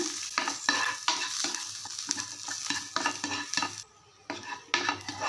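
Crushed garlic sautéing in hot oil gives a bright, continuous sizzle, broken by rhythmic scrapes and taps of a spatula stirring in the pan, with one brief lull near the end.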